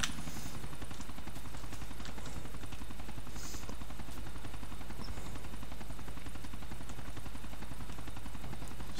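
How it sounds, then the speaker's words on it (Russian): Helicopter in the video game GTA 4, a continuous whirring rotor drone with rapid low rhythmic chopping that stays steady and moderately loud throughout, with no voices over it. "Это просто вертолет не останавливается, вы не подумайте."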